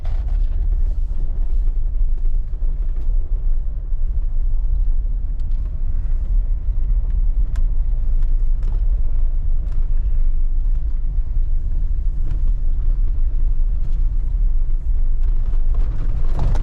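Steady low road rumble from inside a car driving around Land Between the Lakes, a continuous broad engine and tire drone with no talking, loud and unbroken throughout.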